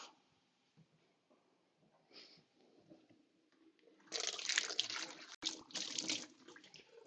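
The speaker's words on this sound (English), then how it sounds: "Just wash my hands." Tap water runs over hands at a kitchen sink while cooking, a soft trickle at first that swells into a loud, steady splashing gush with brief breaks partway through.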